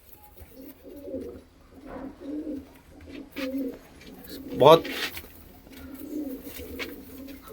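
A white-eyed Punjabi Malwai pigeon coos in repeated low rolling phrases nearby, while someone talks over the calls.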